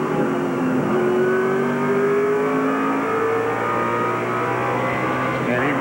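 NASCAR Featherlite Southwest Tour stock cars race at Tucson, a continuous roar of engines with rising and falling pitch as cars sweep by, while a commentator talks over the action.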